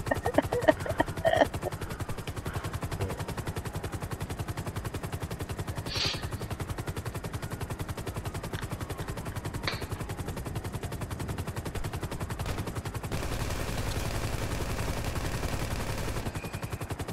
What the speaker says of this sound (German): Wer schießt da?